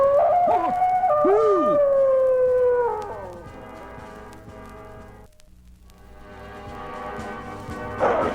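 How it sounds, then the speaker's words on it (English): A powerful gray werewolf in an audio drama howls with long, wavering, rising and falling cries that fade out midway, leaving a quieter tonal rumble beneath. "A powerful gray werewolf now rumbles its challenge to Erica"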